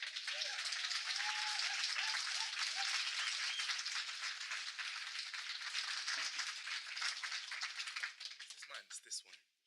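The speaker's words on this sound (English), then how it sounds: "big round of applause for our man" A conference audience gives a big round of applause for a presenter, dense sustained clapping with a few cheers early, tapering into scattered claps and a voice near the end.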